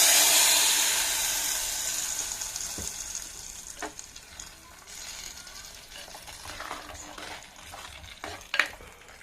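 Hot tempering poured into a papaya erissery curry gives a loud burst of sizzling that gradually dies down, with a few clinks from a spoon and no talking.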